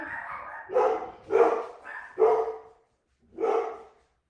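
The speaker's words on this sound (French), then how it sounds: "Entendez-vous les chiens?" Dogs bark indoors nearby in a short series of about five loud, spaced barks, heard alone without talk.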